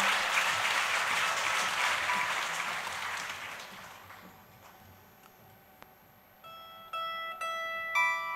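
Concert audience applause at a regional philharmonic fills the hall loudly for about four seconds, then fades as a bright, tinkling instrumental melody with struck, bell-like notes begins.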